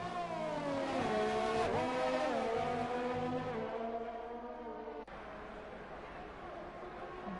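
A McLaren and a Red Bull race car in a racing video game whine along at high revs, the engine pitch rising and dipping through gear changes, with commentary running beneath.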